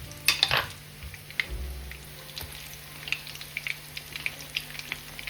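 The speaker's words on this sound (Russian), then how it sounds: "Выкладываю на сковородку и обжариваю со всех сторон до золотистого цвета." Lavash rolls filled with chicken and cheese fry in a pan, giving a soft, steady sizzle with scattered light clinks and taps of utensils against the pan and dishes, and no talking.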